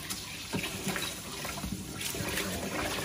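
Rice being washed in water before cooking, close splashing and swishing with tap-like trickling in irregular bursts throughout, no talk.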